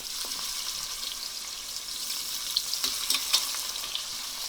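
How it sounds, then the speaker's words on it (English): Chicken sears skin side down in a hot oiled pan, giving a steady, close, bright sizzle with crackling pops that thicken toward the end, and no talking. "we're going to sear this chicken until it's golden brown"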